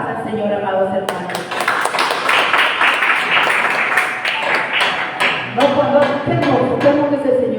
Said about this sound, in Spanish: Dale fuertes palmas al Señor, amados hermanos